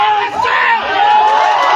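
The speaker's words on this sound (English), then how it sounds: "That is a round of applause from the Ugandan fans" Ugandan fans at a pool match break into a brief, loud burst of crowd noise, with cheers and whoops rising over a steady hum of indoor chatter.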